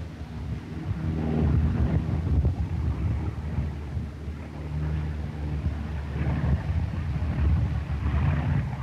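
A four-engined Avro Lancaster bomber lands on a windy runway in New Zealand in 1946, a distant, rumbling low engine roar that rises and falls under buffeting wind noise.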